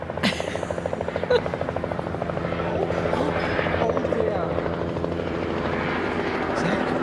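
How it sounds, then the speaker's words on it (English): A rescue helicopter drones steadily overhead, its rotor thumping in a continuous rhythm, fairly loud throughout. "No, helicopter rescue somewhere."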